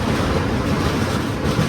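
A passing train rumbles loud and close with a dense, continuous roar of wheels and carriages, heard alone without talk.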